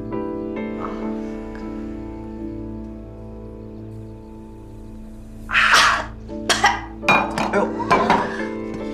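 Glasses clinking together in a birthday toast, several sharp clinks in a short burst after a quieter stretch with a steady musical hum beneath.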